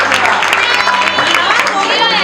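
An audience applauds at an event in honour of Noel Sahib, a dense burst of many hands clapping close by with crowd murmur and voices mixed in.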